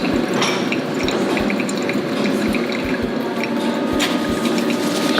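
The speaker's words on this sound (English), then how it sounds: "and then I like to do a center pour." Hot water poured from a kettle onto coffee grounds in a pour-over brewer, using a pour into the centre of the bed: a steady liquid trickle and splash running continuously throughout, close by, with no talk.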